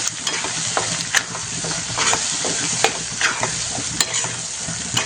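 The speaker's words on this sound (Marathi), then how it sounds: "हा मसाला चांगला परतून घ्यायचा आहे" Masala is sautéed in oil over a low flame for Maharashtra-style chicken rassa: a constant close sizzle with repeated sharp spatula scrapes and taps against the pan, with no speech.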